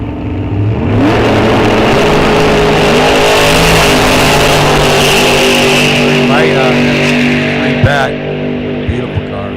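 Drag race cars launching side by side at Rock Falls Raceway test and tune, including a 63 split window, engines roaring loudly and continuously as they accelerate away under an announcer's commentary.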